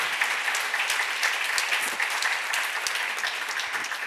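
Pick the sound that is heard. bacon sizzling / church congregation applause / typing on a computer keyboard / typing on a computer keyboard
church congregation applause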